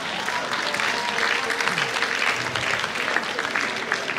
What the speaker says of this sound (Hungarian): Én azért adnék ennek egy nagy tapsot.